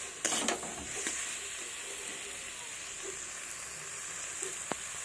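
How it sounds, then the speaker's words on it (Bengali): A raw banana and lentil kopta mixture fries in a pan while it is stirred, giving a steady, fairly quiet hissing sizzle with a few scraping clicks from the utensil. "তো এবার আমি এটাকে দিয়ে ভালোভাবে নেড়ে আর একটু ভালোভাবে কষিয়ে নেব"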